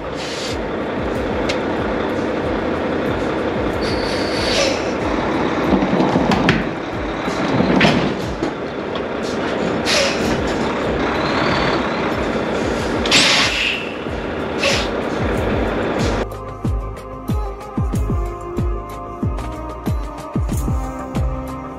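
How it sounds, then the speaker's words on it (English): Semi truck reversing slowly under a drop-low trailer onto the fifth wheel, a loud, steady diesel rumble with clanks and air hisses, ending in a rhythmic series of pulsing idle beats near the end. "I'm going to reverse slowly and it's going to slide the trailer up onto the fifth wheel"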